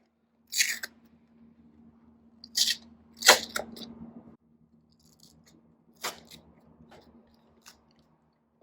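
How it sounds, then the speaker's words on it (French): An ice pack wrap for a horse's legs is pulled open, giving a few short, close ripping and crackling bursts separated by quiet gaps, with no one talking. "On ouvre l'enveloppe."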